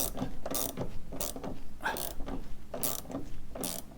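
A custom special tool spins a nut down a long threaded rod, giving a close, loud, repeating ratcheting whir in regular bursts about every half second, with no voices.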